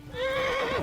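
A tired horse in the game Kingdom Come: Deliverance gives a single short, close neigh that rises and then wavers down.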